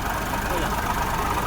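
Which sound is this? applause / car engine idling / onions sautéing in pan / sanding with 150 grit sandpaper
car engine idling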